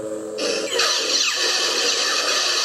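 Lightsaber blade lockup effect, a sustained crackling, buzzing hum that jumps into a harsher sizzling, sparking tone, steady and close with no pauses.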